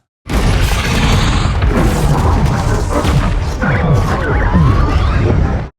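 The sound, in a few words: filtered explosion impact sound effect, force field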